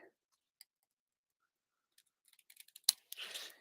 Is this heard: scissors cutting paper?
yes